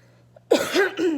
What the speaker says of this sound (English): so I may be coughing in and out, so I apologize for that